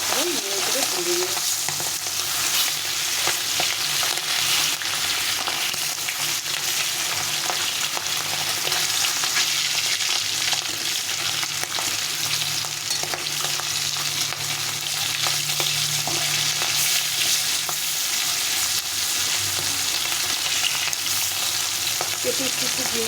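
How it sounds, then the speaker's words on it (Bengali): Hilsa fish pieces fry in hot oil with a steady, dense sizzle that holds at an even level throughout, close and loud with no voices. "তেলটা বেশ গরম হয়ে গেছে, এখন আমি মাছগুলো ছেড়ে দেবো।"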